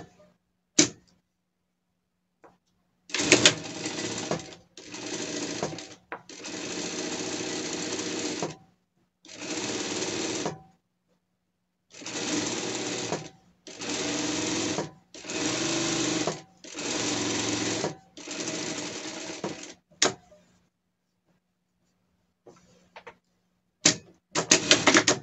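Sewing machine stitching three rows of elastic thread onto a pet dress, running in a series of steady whirring bursts of a second or two each, separated by short pauses, close and fairly loud.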